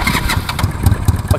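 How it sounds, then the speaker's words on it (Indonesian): A Yamaha Nouvo 270cc two-cylinder scooter engine started by remote, running with a loud, close, uneven rumble and rhythmic low pulses as it settles toward idle. "kalian juga penasaran gimana dengan suara Yamaha Nuvo ini"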